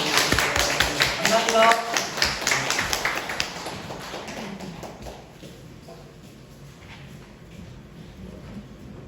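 A small church congregation claps in thanks for a deacon, a loud burst of rapid hand claps that gradually thins out and fades into a quieter room.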